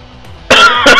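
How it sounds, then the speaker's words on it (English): Two harsh, loud coughs close to the microphone, one right after the other, after a moment of quiet. "just having a little coughing fit there"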